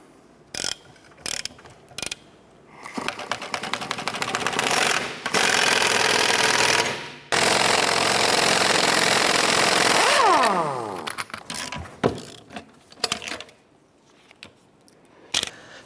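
Wheel bearing on a 2008-2012 Honda Accord being pushed out of the steering knuckle with a press, a loud sustained grinding, ratcheting mechanical strain broken by sharp clicks and clanks, ending in a falling metallic ring as the bearing gives.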